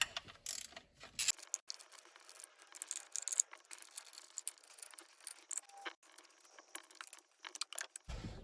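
A ratchet clicks in quick short runs while engine cover bolts come off a Proton Satria GTI, close and crisp, with small metallic rattles between strokes.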